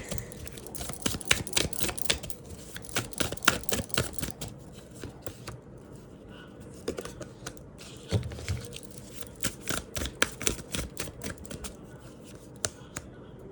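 Tarot cards are shuffled and drawn by hand, a steady run of quick, close riffling clicks and slaps that thins out into sparser taps toward the end, with no talking.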